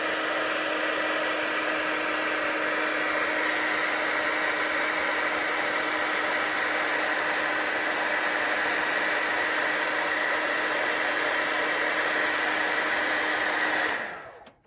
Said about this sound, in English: I'm just going to heat emboss this leaf